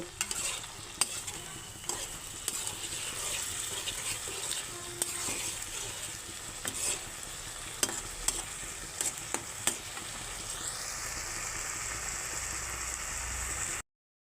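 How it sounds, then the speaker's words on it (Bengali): Prawns sautéing in a pan with a splash of water, stirred. A continuous close sizzle runs throughout, with irregular scraping and clinking of the spoon against the pan, then it cuts off abruptly. "জল দিয়ে আমি ভালো করে চিংড়ি মাছটা কষিয়ে নেব"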